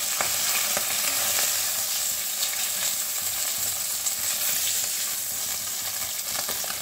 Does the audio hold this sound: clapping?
no